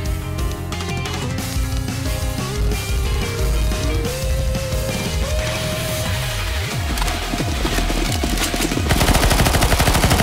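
Bursts of rapid automatic gunfire cut down zombies in the CS:GO Zombies video game, loud and close, layered over game music and growing denser toward the end.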